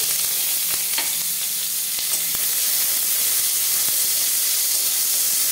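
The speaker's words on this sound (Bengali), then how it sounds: "দিয়ে দেবো পেঁয়াজ কুচি।" Chopped onion frying in a pan over a dry red chilli tempering, stirred as it cooks, gives a steady, close sizzle with a few light scraping clicks, no voices.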